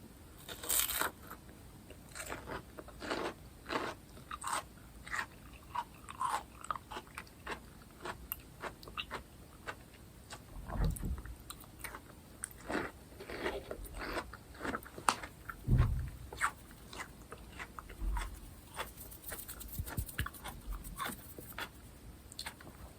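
Close, crisp crunching and wet chewing bites of watermelon repeat irregularly over a quiet background, with occasional louder crunches and no talking.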